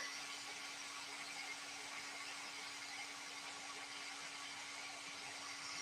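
A heat tool blows steadily while melting clear embossing powder, giving a constant whirring hiss with a faint tonal hum, unbroken and close.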